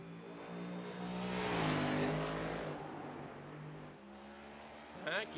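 Race car lapping the Watkins Glen circuit during qualifying, its engine droning steadily and loudly with shifting pitch as it accelerates and eases through corners, heard continuously throughout.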